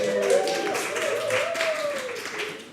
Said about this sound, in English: let's have a clap for that one